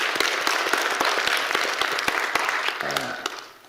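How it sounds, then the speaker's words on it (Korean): Congregation applauding together during a church worship service, a steady dense wash of clapping that fills the space and fades toward the end, with a brief voice near the close. "우리 한번 박수로 한번 영광을 돌리겠습니다"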